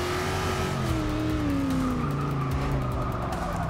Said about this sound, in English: Very easy to lock up those front wheels.